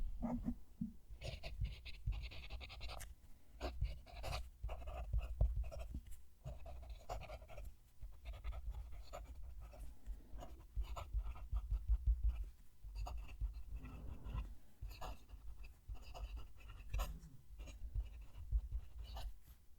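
Close, quiet scratching of a HongDian Light of Hope fountain pen nib moving across paper in continuous strokes, with faint low room rumble underneath.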